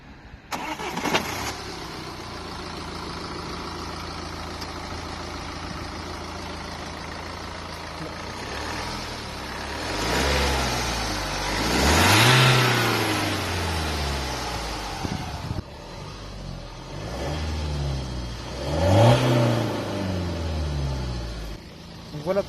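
A BMW 116d diesel car engine starts and idles, then revs up in two distinct swells that rise and fall back to a steady rumble, heard close by with some talk over it.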